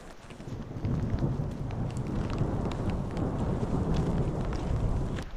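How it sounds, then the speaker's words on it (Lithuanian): Steady, fairly faint rain hisses continuously, with a low rumble underneath like distant thunder. "Jau girdžiu perkūniją."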